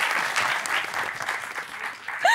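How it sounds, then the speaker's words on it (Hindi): Studio audience applauding at a Pakistani TV comedy talk show on SAMAA TV, a steady dense burst of clapping that lasts a couple of seconds and swells again at the end. "कैच हो गया, तालियां बजाओ।"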